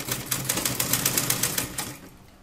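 Domestic sewing machine stitching a folded fabric drawstring for a child's three-piece night dress, a rapid, steady mechanical chatter running loud and close for about two seconds before stopping, with no talking.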